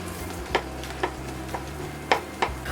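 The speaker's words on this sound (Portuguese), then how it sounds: "Em uma frigideira eu coloco um fio de azeite." Chopped garlic sizzles quietly in a thin drizzle of olive oil in a frying pan while browning for a feijoada, a soft steady fry broken by about five crisp stirring scrapes, no voices.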